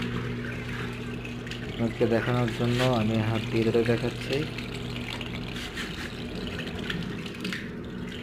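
Water pours and splashes out of a Haam washing machine, recently fitted with a new gearbox, in a steady, close stream while someone talks over it throughout.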